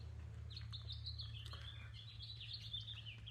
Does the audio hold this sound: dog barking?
no